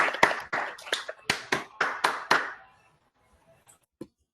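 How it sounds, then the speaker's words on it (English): A business meeting audience gives a brief round of applause: about nine or ten sharp, distinct claps in a quick rhythm that taper off, followed by near silence and a single faint tap. "we can give Tom a nice round of applause"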